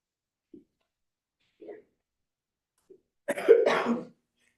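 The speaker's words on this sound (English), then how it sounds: "I'm just trying to clear my throat" A single person clears their throat and coughs roughly, close, after a few faint clicks in an otherwise quiet room during a Shabbat service.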